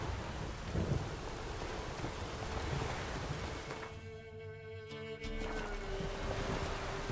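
Thunder rolling through a storm in The Witcher video game, a heavy rumbling wash with rain-like noise that swells and briefly drops away before surging back.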